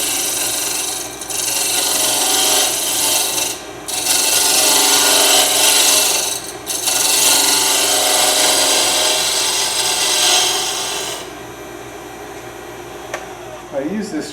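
Round nose scraper working a spinning piece of wood on a lathe, a loud continuous rasping hiss broken by a few short pauses, then fading to a quieter tail near the end.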